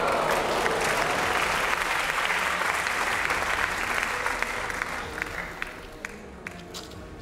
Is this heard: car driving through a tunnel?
no